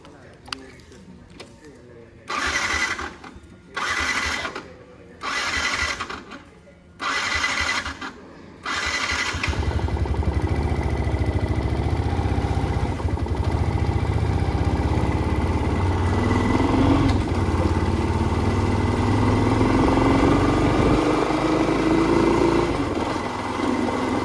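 A motorcycle starts up after several short bursts of cranking, then settles into a steady engine drone as the bike rides off toward a market, with talk heard over the early part.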